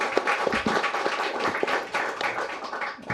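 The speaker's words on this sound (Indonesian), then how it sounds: "Kita berikan tepuk tangan." Studio audience applause on an Indonesian talk show about free school meals, a dense patter of clapping that swells and eases over a few seconds, close and fairly loud, with no voice over it.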